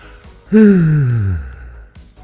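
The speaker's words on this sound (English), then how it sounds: "That was me yawning." A long, loud drawn-out yawn with a falling, breathy voiced tone, heard up close with no talking.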